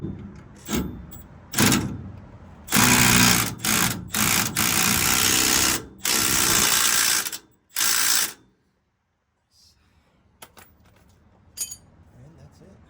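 A ratchet tightening bolts on the shocks of a 1995 OBS truck, with loud bursts of rapid clicking separated by pauses, close up, followed by quiet with a few faint clinks.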